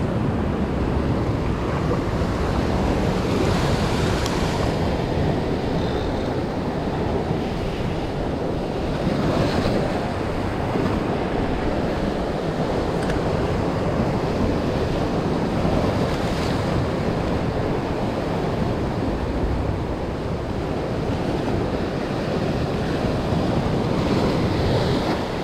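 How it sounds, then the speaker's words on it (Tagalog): Strong ocean waves break steadily along a shore where people are fishing, a continuous loud roar of surf mixed with gusty wind buffeting the microphone, with no talking. "Lakas kasi ng alon."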